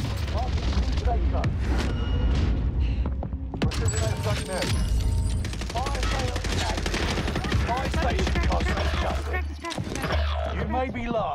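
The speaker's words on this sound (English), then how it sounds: "Airstrike, you are cleared hot." Airstrike explosions and heavy gunfire fill a Call of Duty Warzone match, with repeated loud booms and rapid bursts running continuously across the scene under intermittent voices.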